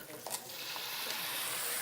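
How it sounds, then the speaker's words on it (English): A flambé with orange liqueur in a pan during a ground beef cooking contest gives a brief, bright sizzling and hissing whoosh, moderately loud and close, with a faint voice underneath. "Are you ready to flambe?"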